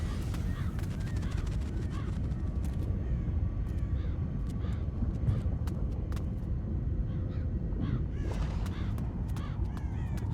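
A bird caws several times in the video game Risen 3, short harsh calls scattered over a dense, steady wash of ambient game sound, fairly faint and not very close.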